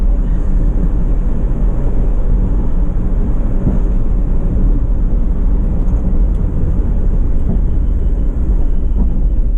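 A steady, loud low-pitched engine roar with a breathy intake hum, heard inside a Mazda MX-5 with its interior stripped out, fills the whole stretch, constant and close, with no talking.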